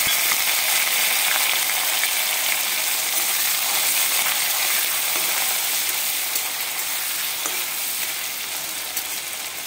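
Pieces of coconut frying in oil with dry red chillies, bay leaf and panch phoron, a loud continuous close sizzle with faint scraping and stirring clicks throughout, no talking.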